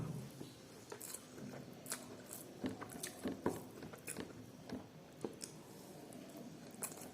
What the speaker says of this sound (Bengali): খাওয়া শুরু করছি।